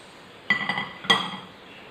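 A spoon stirs sour-sweet fruit chaat with cream and chaat masala in a bowl, giving a few quiet, bright clinks against the dish.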